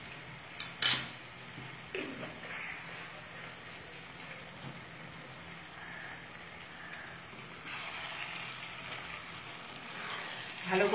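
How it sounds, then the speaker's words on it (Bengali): Cabbage with rohu fish head and ghee stirred in a pan, soft spattering sizzle with occasional spoon clinks and scrapes against the pan, a sharp clatter near the start and end. "ভালো করে মিশিয়ে নিলাম"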